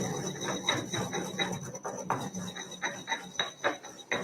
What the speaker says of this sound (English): grind my salt